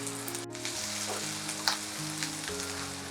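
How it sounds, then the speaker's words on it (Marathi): Finely chopped ginger and garlic fry in melted butter for sweet corn soup, making a quiet, continuous sizzle with a faint utensil tap. A steady low hum runs underneath, and no one talks. "आता मी हा जो आलं बारीक चिरलेला आहे तो घालत आहे।"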